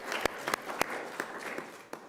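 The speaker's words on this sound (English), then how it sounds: "big round of applause for sure" A church congregation at a Sunday service claps in a modest round, with a few sharp, separate claps standing out over a softer, steady patter, heard from a middle distance.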